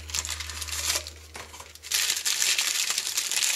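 Wax paper wrapping on a well-packaged collectible figure crinkles and rustles in close, continuous bursts as it is unwrapped, with a brief lull midway before louder crumpling resumes.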